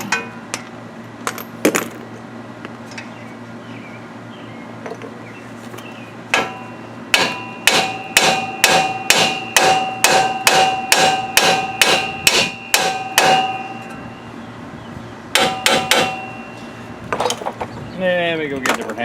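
A hammer strikes the front hub of a 2001 Chevy 1500HD truck with loud, ringing metallic blows. A few scattered hits come first, then a rapid steady run of about a dozen strikes, then another short burst near the end.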